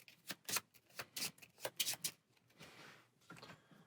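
Marvel Champions cards are shuffled by hand in quick riffling bursts, a string of soft, crisp snaps and flutters that trail off into lighter shuffling, close and quiet.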